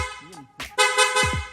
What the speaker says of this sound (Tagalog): Stock horn, loud horn,